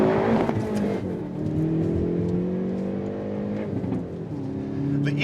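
A Hyundai Veloster N at full throttle, heard from inside, roars with rising engine pitch through the gears, with brief dips at each shift before the revs climb again, loud and continuous with no talk.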